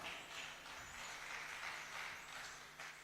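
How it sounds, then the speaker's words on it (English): An audience at a teachers' leadership conference applauds its panelists, a steady wash of clapping that sounds faint and distant and lasts without any speech. "A big round of applause for them."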